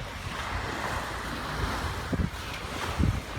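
Surf washes onto a beach where a cleanup is under way, a continuous rolling roar of waves with gusty wind buffeting the microphone and a few louder breaking surges near the end; no one speaks.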